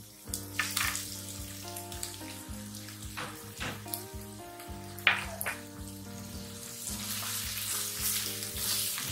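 Chopped onion and tomatoes fry in a pan for stuffed capsicum, giving a steady sizzle with a few sharper spatters, heard beneath prominent tonal background music throughout.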